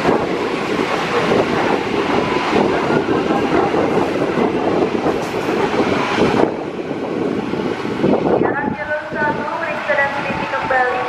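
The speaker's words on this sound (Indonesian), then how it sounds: "Lalu jalur 2 akan melintas kereta api Argo Merbabu" The Argo Merbabu passenger train rushes past on track 2 at speed, a loud continuous roar of wheels and wind buffeting that fades toward the end, followed by faint distant tones.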